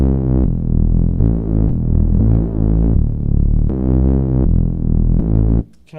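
Reese bass synth patch built in Xfer Serum, a thick, buzzing, detuned low tone played in sustained phrases with slight throbbing movement, loud and alone, cutting off just before the end.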